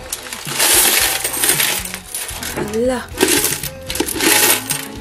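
A large pile of saved coins, mostly pesos, pours out of a savings container in a dense, loud metallic clatter and jingle that keeps going throughout, with people talking and exclaiming over it.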